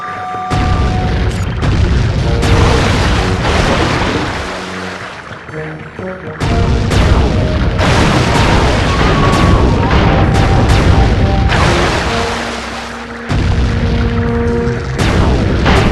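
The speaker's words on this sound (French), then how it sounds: "Murray rame et Sly s'occupe du canon." Heavy booming cannon blasts fire repeatedly over a dense, rumbling soundscape in the video game Sly 3, each shot loud and close with tonal effects between volleys.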